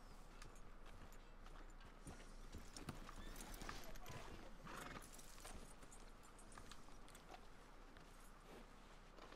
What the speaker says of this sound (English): I want to hitch my horse.